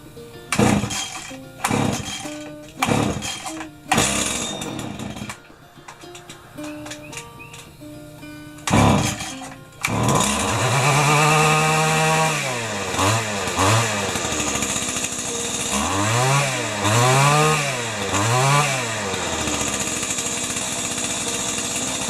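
An old Stihl weed trimmer with a freshly fitted carburetor sputters through several short pull-start bursts, then catches and runs loud and close, its engine revving up and down in repeated surging waves.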